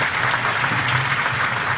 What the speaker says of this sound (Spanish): hay que darle un aplauso como el futuro gobernador, Roberto